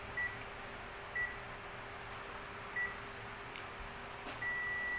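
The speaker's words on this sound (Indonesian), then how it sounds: "Nah, Anda dengar suara bipnya." Several short electronic beeps from a multimeter on continuity setting, testing power amplifier transistors, at irregular intervals, then a sustained steady tone at the end, over a quiet hum.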